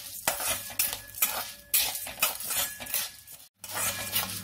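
Chana dal and urad dal dry roasting in a pan for a curry leaf and garlic spice powder, with scraping and clinking of a spatula against the metal pan in uneven bursts, close and fairly loud, no voices.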